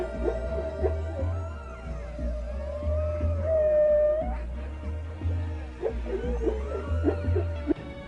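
Humpback whale vocalizations, a mix of long rising and falling moans, squeals and pulsed calls echoing underwater, moderately loud with no voices.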